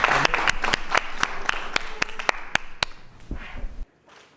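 Sharp, separate claps ring out at a post-fight press conference for an ARES 27 fighter, a dozen or so close hand claps fading into scattered ones before a few words and sudden quiet.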